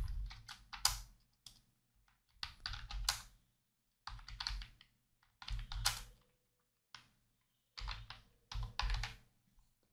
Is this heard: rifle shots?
no